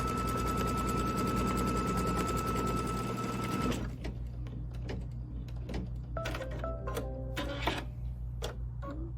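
A computerized embroidery machine stitches a placement cut line in a steady, loud mechanical whir, then stops midway and gives way to lighter clicks and ticks close by.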